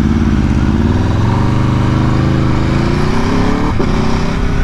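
A 2022 Aprilia RSV4 Factory 1100 sport bike with a flashed ECU accelerates hard from 60 to 130, its engine note loud and close, climbing steadily in pitch with a brief gear-change dip.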